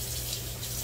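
Warm water running from a tap for scrubbing dentures, a brief steady close gush with no voices over it.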